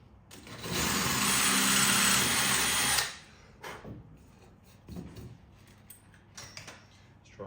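A power drill runs at high speed for about two and a half seconds, drilling out holes on a Sierra Sapphire Cosworth during a rebuild. Afterward come quieter knocks and handling clatter in a workshop.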